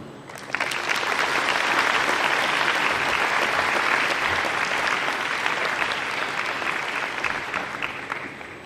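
Audience at a high school graduation ceremony applauding a colonel as he comes to the stage: sustained, dense clapping from a large crowd that swells quickly, holds, then slowly tapers off.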